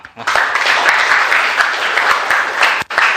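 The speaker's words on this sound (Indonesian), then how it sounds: "tepuk tangan untuk kita semua" A classroom of students claps together in sustained, dense applause that runs nearly the whole time, loud and close, with a brief dip near the end.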